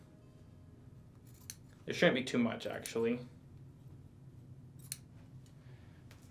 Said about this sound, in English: pull out my scissors, clip off the ends here